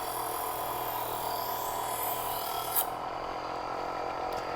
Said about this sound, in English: You're gonna hear this being much quieter as it's polishing the edge.